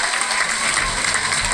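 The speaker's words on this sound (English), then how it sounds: "our studio audience will applause" Studio audience applause at a talk show, a loud, even wash of clapping from many people, steady throughout the brief moment with no pauses.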